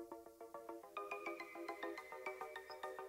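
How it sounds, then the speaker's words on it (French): Chime from a computer as a phone is plugged in: a quick rhythmic series of bright electronic tones that steps up to a higher pattern partway through, quiet and alone. "vous allez installer votre téléphone comme ceci dans votre ordinateur. Et donc vous allez entendre le bruit"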